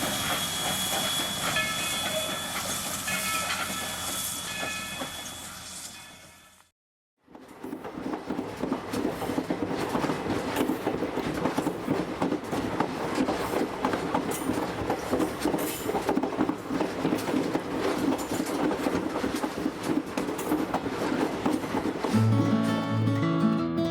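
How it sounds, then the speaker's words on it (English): Texas State Railroad steam locomotive number 300 pulls out of a shop yard, with loud continuous steam hiss and chuffing that is broken by a brief gap, then resumes steadily with no speech. "Texas State Railroad number 300 heads out of the shop yard toward the depot to pick up her train of"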